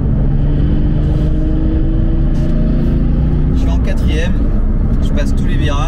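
A Porsche 997 GT3 RS engine pulls steadily in fourth gear, its loud, sustained, rising drone heard from inside the car, with road rumble beneath and a voice talking over it.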